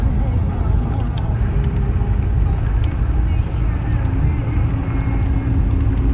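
A car driving at speed toward Banihal railway station in Kashmir, a loud steady engine and road rumble inside the vehicle throughout, with no clear talk.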